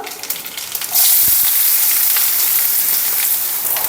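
Mustard seeds and chopped onion drop into hot oil and break into a loud, steady sizzle that fills the remaining seconds, close and continuous after a quieter start.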